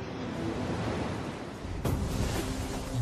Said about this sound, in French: Les vents créent des vagues.